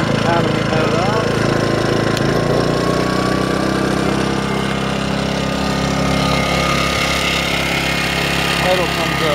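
A Powermate 2000 portable generator runs with economy mode off, a steady mid-pitched engine drone heard from about 15 feet away, loud and continuous with a faint varying tone through it.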